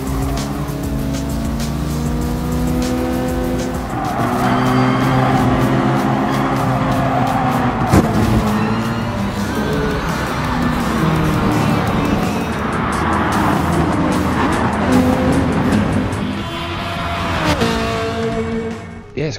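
Race cars roaring at high revs in Gran Turismo Sport on PlayStation 4, engines rising and falling through gear changes with tires squealing, loud and continuous, with no talking.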